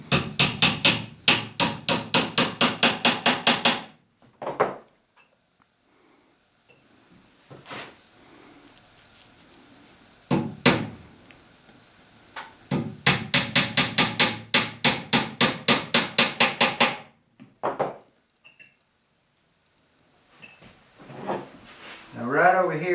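A hammer drives wedges while the back of a guitar is glued up, in long runs of quick, evenly spaced, sharp taps separated by pauses and brief noises.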